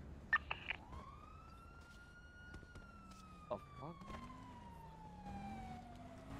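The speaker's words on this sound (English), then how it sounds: "Lights and sirens." Police car siren in the GTA video game wails loudly in long rising and falling sweeps after a few short blips at the start, with faint talk underneath.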